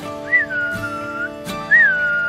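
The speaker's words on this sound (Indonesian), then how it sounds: "ikan gabus itu dipancing dengan siulan" Human whistling used to lure snakehead fish up to the water surface, a few loud rising-then-falling whistled notes close by, separated by short pauses with soft knocks in between.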